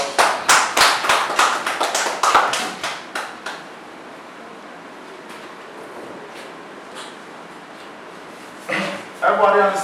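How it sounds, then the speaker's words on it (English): A short burst of classroom applause during a prospectors' map reading course: a few people clap for about three and a half seconds, then the room goes quiet under faint background noise, before another voice briefly cuts in near the end. "Give me a round of applause."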